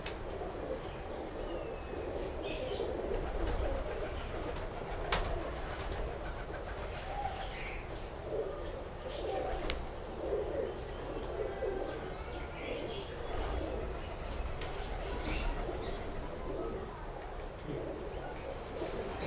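Domestic pigeons kept by fanciers coo softly on a rainy day, their low repeated calls fairly faint over a steady background patter, with occasional brief chirps.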